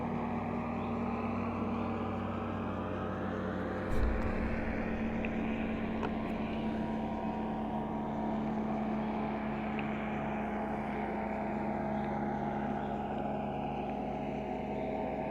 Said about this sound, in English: Oh, it's a plane. It's a couple of planes.